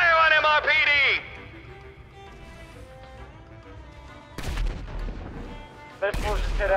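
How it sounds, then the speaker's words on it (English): Missile strikes slam into a police station in the video game GTA, two sudden heavy explosive blasts with broadband booms that follow a stretch of quieter game sound, and a loud synth alarm-like tone opens the clip. "Missile just hit MRPD."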